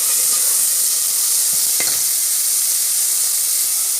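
Two large chopped onions fry in hot oil for a chickpea kulambu, making a loud, continuous close sizzle with a brief stir partway through and no talking.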